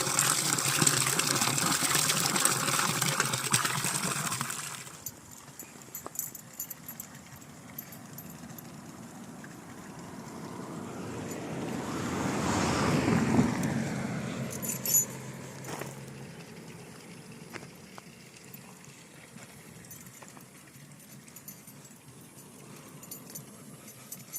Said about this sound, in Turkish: Biraz okuyun suyu dinleteyim.